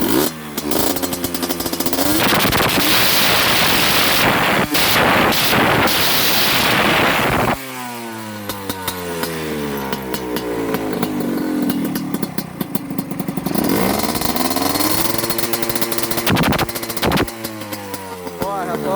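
A dirt bike engine revs hard and loud close by, with sustained high-rpm roars, rising and falling pitch sweeps and gusts of wind noise over the microphone.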